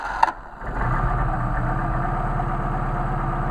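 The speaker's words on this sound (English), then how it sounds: "I might have the idle too low." A Mercedes 190SL engine idles on its carburetors, opening with a brief clunk before a low, steady burble settles in and holds evenly, close by.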